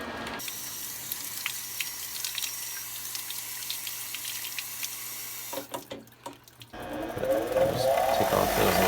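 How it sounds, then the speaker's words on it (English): Water is poured over freshly welded bicycle metal, starting with a steady hissing trickle and ending in a louder splashing rush, with faint background noise in between. "I'm going to just cool it off with some water"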